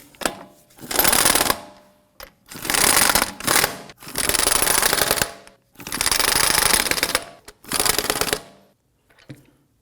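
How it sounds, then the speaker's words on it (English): Impact or power tool snugging lug nuts onto a 2003-2014 Volvo XC90 front wheel, in five loud rattling bursts of about a second each, separated by brief pauses. "let's go ahead and snug these down gently"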